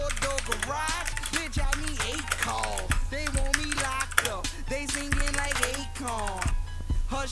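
Rapid typing on an orange-backlit mechanical keyboard with Kailh Blue switches, a steady stream of close, clicky keystrokes throughout, with a voice talking faintly underneath.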